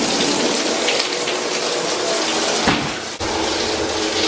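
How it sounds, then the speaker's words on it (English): A home shower runs with a steady, loud hiss of water spraying for several seconds, its flow briefly shifting near the end, and nobody speaks. "Got my shower on."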